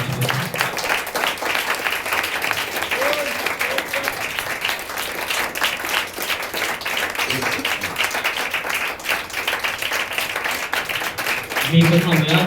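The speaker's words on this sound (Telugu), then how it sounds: "ప్రియ సహోదరులారా, చప్పట్లు కొట్టి ప్రభు నామాన్ని మహిమపరచుదాం" A church congregation in a prayer hall claps together in sustained, dense applause that runs throughout, with a voice rising near the end.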